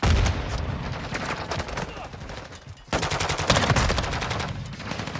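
Call of Duty gunfire on the Shipment map: dense rapid automatic bursts, loud and close, broken by a brief lull before another heavy volley.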